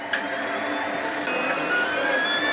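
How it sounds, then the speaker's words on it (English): A Lulzbot Mini 3D printer printing, its stepper motors giving a steady whirring hum with shifting whining tones, close and continuous, with no talking. "So the printer's started now"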